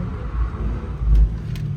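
A BMW M3 E90 engine on a track drones as a low, steady rumble that swells briefly in the middle, with no distinct rev peak standing out.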